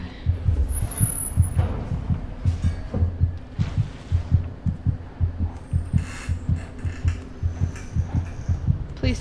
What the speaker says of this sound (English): Stop the heartbeats, please. Heartbeating is not cool.